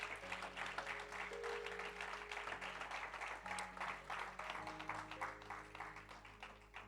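A church congregation claps together during a Christmas celebration service, steady dense applause sustained throughout, heard from the middle of the room with a faint hum underneath.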